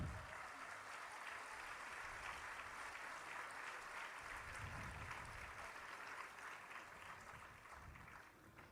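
An audience at an ISKCON Kartik Yatra gathering in Jagannath Puri claps steadily and fairly faintly for the whole stretch, a dense, even wash of hands with no talk over it.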